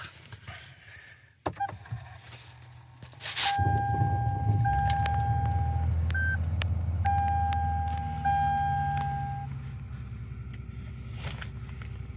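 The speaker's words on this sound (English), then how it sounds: "Engine sound so smooth." A 2011 Lexus RX450h starts at -40°C and its engine settles into a smooth, steady hum, with several electronic chimes and beeps sounding over it.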